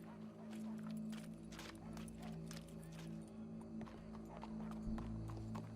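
Horse hooves clop steadily in Red Dead Redemption 2, a quiet rhythmic beat of footfalls over a low sustained hum from the game.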